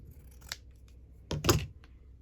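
Scissors cut out stamped fabric ephemera in a few quick, crisp snips, a short one followed by a louder cluster of closing blades, close by and alone in a quiet room.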